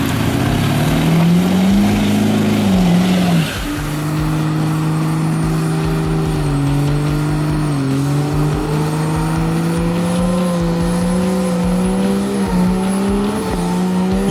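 Diesel pickup truck engine straining while towing a stuck vehicle, a loud close drone that revs up, drops sharply, then holds a steady labouring pitch with slow rises and falls for several seconds.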